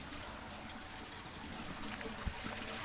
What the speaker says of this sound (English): look at me sitting out here in the rain.